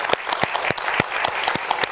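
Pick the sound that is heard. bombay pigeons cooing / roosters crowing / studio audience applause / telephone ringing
studio audience applause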